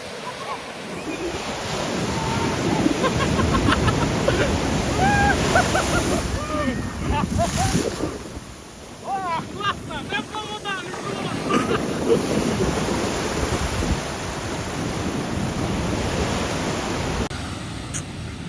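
Ocean waves surge and break on a California beach, a loud continuous wash of surf with wind buffeting the microphone, close at hand; people's voices and shouts rise over the roar at moments.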